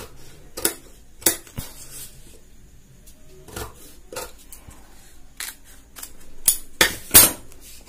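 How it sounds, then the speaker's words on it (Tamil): Scissors cut a V neck into blouse fabric in a series of sharp, close snips and rustles, irregularly spaced with quiet gaps between, growing busier near the end. "இப்ப இதுலயே பாத்தீங்கன்னா நான் வந்து வி நெக் மாதிரி கட் பண்ணி காட்டுறேன் பாருங்க"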